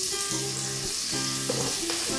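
Chopped onions and garlic fry in oil for beef stroganoff, giving a steady close sizzle throughout, with a faint tonal hum running beneath it.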